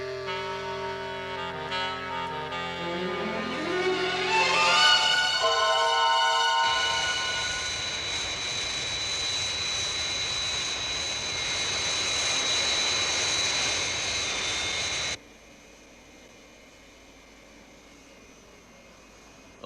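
Fireflash airliner jet engines climbing after takeoff in Thunderbirds: a rising whine sweeps up over the first seconds, then settles into a loud, steady roar that cuts off abruptly to a quieter cabin hum.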